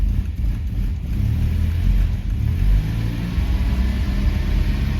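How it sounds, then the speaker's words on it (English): A Volvo 940 car engine runs steadily while the car drives, a continuous low rumble with slight revving swells, close and loud with no talk over it. "So let's start engine."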